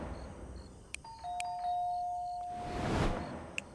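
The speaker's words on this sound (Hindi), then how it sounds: "सबसे पहले तो मैंने डोरबेल बजाई थी।" A doorbell rings with a clear two-tone electronic chime, its sustained tone ringing out over a quiet room alongside a few faint clicks and a brief soft rustle.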